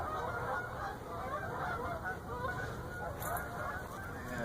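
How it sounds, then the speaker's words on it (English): Canada geese honk repeatedly in a noisy flock, their calls layered over a constant rushing wind or road roar. "There goes a Canadian geese. Going south for the winter."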